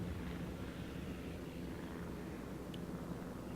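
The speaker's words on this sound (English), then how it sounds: "I start to notice some aircraft coming in, torpedo bombers." Torpedo bomber aircraft approach in the World of Warships naval game, a steady, continuous engine drone that holds at an even level throughout without clear peaks.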